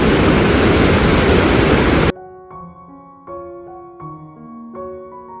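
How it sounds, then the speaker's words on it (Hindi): Rishiganga waterfall at Badrinath roars as a loud, steady, dense rush of falling water, then cuts off abruptly to soft melodic music. "सामने पे ऋषिगंगा झरना।"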